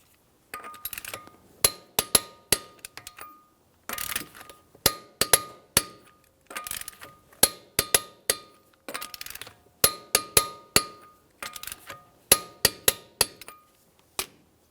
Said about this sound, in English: we'll torque these in a crisscross manner.